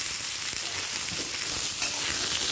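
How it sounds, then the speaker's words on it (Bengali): Cut potato pieces fry with pointed gourd in hot oil on a medium gas flame, giving a close, steady sizzle with a few faint stirring knocks. "আলুটাও হালকা লাল করে পটলের সাথে ভেজে নেব।"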